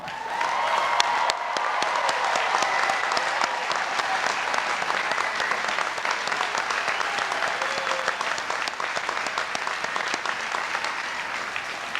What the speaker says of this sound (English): I ask that all students who are graduating magna cum laude stand and be applauded